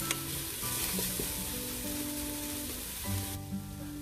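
Masala for Punjabi chole sizzling in oil, a steady close frying hiss under a sustained musical backing, with no talking.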